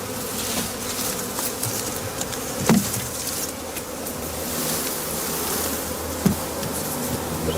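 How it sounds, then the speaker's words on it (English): Bees from a swarm buzz steadily as they are swept into a woven skep hive at dusk, a dense continuous drone with a couple of brief knocks, close and fairly loud. "As dusk approaches, the bees are introduced to the hive."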